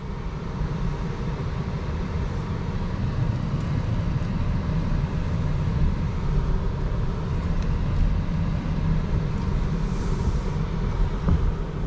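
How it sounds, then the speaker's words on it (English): Interior of an Audi e-tron S, the 507 hp three-motor electric SUV, pulling away in dynamic mode: a steady, low road and tire rumble with a soft whine, fairly quiet and even throughout, with no voices. "So release the handbrake, put it into drive, and let's go."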